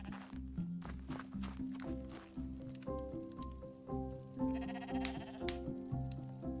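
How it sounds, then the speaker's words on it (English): Sheep in the survival game This Rising World bleat repeatedly in close, overlapping calls, with soft footstep sounds and game effects mixed underneath. "Got a bunch of sheep."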